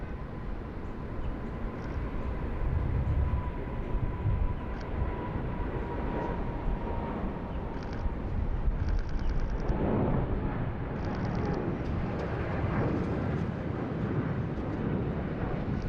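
A Qantas airliner rolls along the runway after landing at Sydney Airport, a steady broad distant roar of jet engines with a faint tonal whine, continuous and even throughout.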